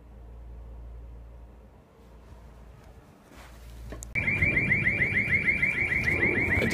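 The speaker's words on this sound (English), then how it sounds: "Just accidentally set off the alarm to the building." A building's alarm, accidentally set off, blares suddenly after a quiet stretch, a loud rapidly warbling electronic tone that continues steadily to the end.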